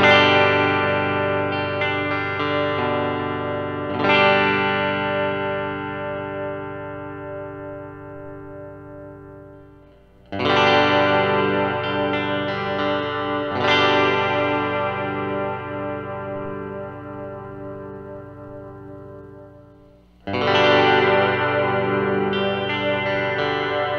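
Fender Telecaster with Texas Special pickups played through a PedalPCB Spirit Box pedal into a 5F11 amp clone, ringing chords struck about every five seconds and left to decay with warbling modulation, no talking.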